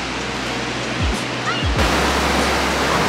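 Ocean surf rolling onto the shore by a beachfront stay on a Highway 101 coastal road trip, a loud continuous close wash of breaking waves with a couple of dull thumps.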